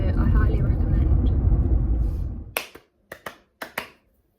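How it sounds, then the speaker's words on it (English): After a stretch of talking over a low rumble, a few sharp hand claps ring out in quick succession before filming starts, loud and close, with silence between them. "Why do I always clap when I go to film a video?"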